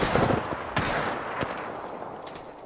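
Gunfire in the battle royale game Apex Legends: a dense automatic volley at the start, then sharp single shots and short bursts trailing off.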